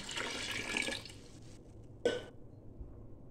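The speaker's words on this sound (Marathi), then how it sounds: "अशा पद्धतीने आता आपण नवीन पाणी ओततोय गव्हामध्ये" Water pours steadily for about a second into soaking wheat, then a brief splash follows after a pause, fairly faint with no talking.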